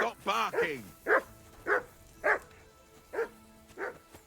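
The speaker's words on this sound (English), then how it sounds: "Whistle at that mutt of yours to stop barking." Dog barking in the video game Kingdom Come: Deliverance II, about six or seven sharp barks spaced roughly half a second apart, close and loud, with a voice talking at the start.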